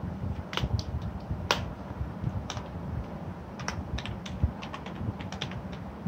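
HTML code being typed on a computer keyboard, a steady stream of close, crisp keystrokes over a constant low hum, with no talking.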